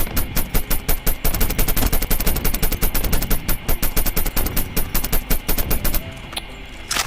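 Rapid automatic gunfire from Call of Duty Mobile rattles in dense, fast bursts for about six seconds, loud and close, then cuts off, leaving a few faint game sounds.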